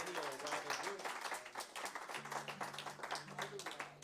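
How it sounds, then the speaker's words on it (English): An open mic audience applauds a set from a modest crowd, with quick scattered claps that sound fairly distant, under someone talking into the mic and some music. "How about a round of applause for Rob"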